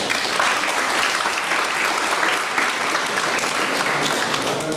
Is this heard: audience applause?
yes